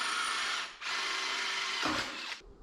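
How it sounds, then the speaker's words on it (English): A power drill bores holes through 18 gauge sheet metal on a radiator mount, giving a loud, steady high-pitched whine that runs nearly continuously, with a brief dip and a short final burst. "This 18 gauge is too heavy though, so it's time we make her lightweight, put some holes in it."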